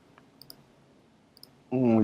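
Computer mouse clicks, a few sharp faint single clicks near the microphone in a quiet room, followed by a person starting to speak.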